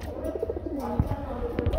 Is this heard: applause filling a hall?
no